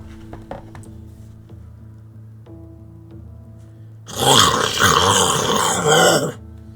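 A human voice imitates a creature's growl, a loud, rough guttural rasp lasting about two seconds after a stretch of quiet room noise with a few faint clicks.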